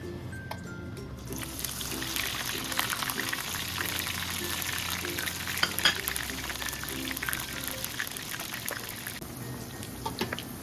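Shrimp okoy fritters fry in hot oil with a continuous crackling, bubbling sizzle, steady and close, with occasional sharper pops.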